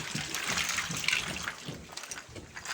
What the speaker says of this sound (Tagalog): Yan, okay, buhos tubig.